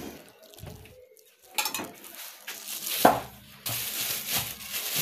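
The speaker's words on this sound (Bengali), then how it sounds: "এগুলো ধুয়ে আনতেছি বেসিং থেকে ধুয়ে আনি" Raw meat is rinsed under running water in a sink basin, with splashing water and irregular clinks and knocks of dishes nearby, moderately close.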